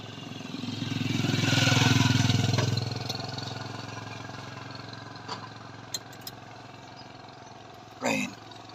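A motorcycle engine by a roadside rises into a loud hum for a few seconds and then settles to a steady idle, with brief clicks and a short burst near the end.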